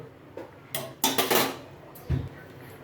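A pot of boiled pasta lifted off the stove with a few sharp metallic clanks and knocks of cookware, close, in a quiet kitchen, separated by short pauses.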